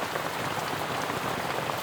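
Steady rain pours down at Manyam Resort in Maredumilli, a dense, even hiss of drops on surfaces that holds unchanged throughout with no voices.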